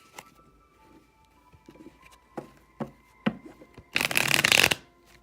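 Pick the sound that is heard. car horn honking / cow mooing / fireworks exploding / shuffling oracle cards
shuffling oracle cards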